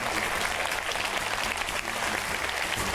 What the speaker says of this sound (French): Dominique, on l'applaudit.